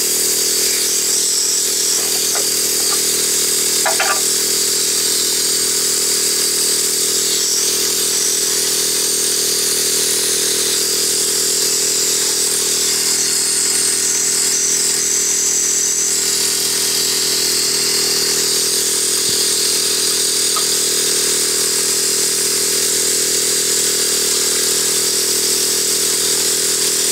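A 12v air compressor with a repaired cylinder leak runs continuously and close, giving a loud, steady buzzing drone that holds even throughout with only slight shifts.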